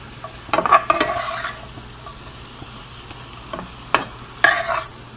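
Honey garlic pork tenderloin stir frying in a pan, heard as short bursts of hissing sizzle and scraping from tossing around the start, with a few sharp utensil clinks later over a quiet, faint background and no talking.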